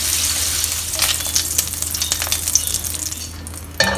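Prawns frying in hot oil in a wok, a loud continuous sizzle and crackle with bubbling, splattering bursts, close and steady with no voice over it.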